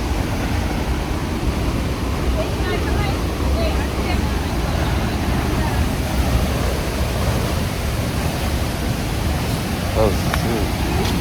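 A waterfall in Costa Rica roars as a steady, loud broadband rush of falling water, unbroken throughout, with a few faint voices nearby.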